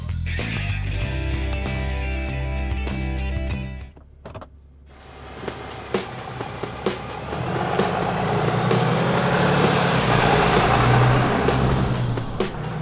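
A RAM 3500 Limited Crew Cab 4x4 heavy-duty pickup truck engine drones steadily while driving, with a brief dip and clunk partway through before the rumble builds back up, loud and close.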